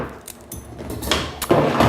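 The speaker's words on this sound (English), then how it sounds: "I will open the door." The metal door of a dog crate is unlatched and swung open, with a rattling clank and a louder metallic clatter close by near the end.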